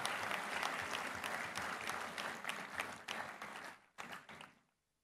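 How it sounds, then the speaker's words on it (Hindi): A convocation crowd at AIIMS Jodhpur gives a hearty round of applause to welcome the Rajasthan chief minister, many hands clapping densely before the sound thins into a few last claps and stops. "एक बार जोरदार तालियों के साथ उनका स्वागत और अभिनंदन"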